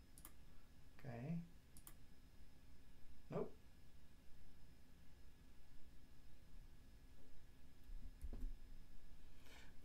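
Several isolated, faint clicks from a computer keyboard shortcut are pressed at irregular intervals, with long quiet gaps between them over a steady low hum of a room.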